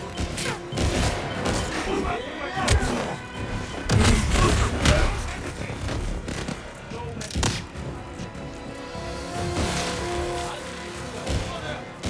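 Gunfire in the video game 007 First Light, rapid bursts of shots and heavy thumps scattered across a busy mix of game effects, with voices speaking in between.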